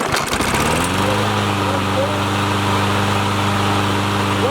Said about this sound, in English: See, you got a good running mower now